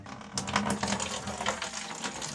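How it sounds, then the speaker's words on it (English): Water gushes steadily out of an open drain valve on a Burnham SteamMax steam boiler, a continuous close, hissing flow that keeps going without a break. "we're going to drain water out of this boiler"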